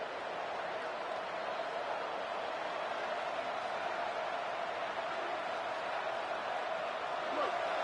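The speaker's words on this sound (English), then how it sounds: "This crowd, full throat, splitting the eardrums and letting them know it's going to be a long day." A stadium crowd in a college football video game, LSU vs Ole Miss, producing a steady, broad, distant roar that holds at an even level throughout with no distinct peaks.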